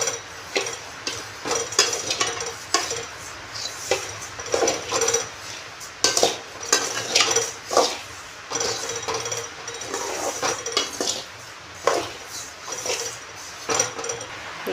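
Semolina (rava) is dry-roasted in a hot pan for village-style upma, a steady run of scraping and clinking as a spoon stirs it, close and busy throughout.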